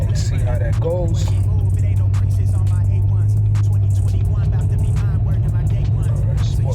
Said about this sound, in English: Now I'm about to do another third gear pull and see how that goes.